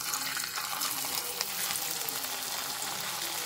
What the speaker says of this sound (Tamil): இப்போ நம்ம வாழைக்காயை பொரிச்சுக்கலாம்